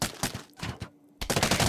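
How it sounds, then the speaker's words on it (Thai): A cannon fires in the Plants vs Zombies Fusion game in several quick, sharp blasts, with a brief lull before another close burst of shots. "ปืนใหญ่พร้อมยังยิงไปเลย"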